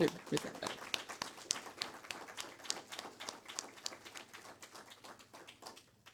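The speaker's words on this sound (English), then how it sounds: "join me in a big round of applause for everyone who is involved with getting these grants for the Cayman Islands" Applause at a Cayman Islands grant award ceremony: a modest, fairly quiet round of clapping from the audience, individual hand claps distinct and tapering off toward the end.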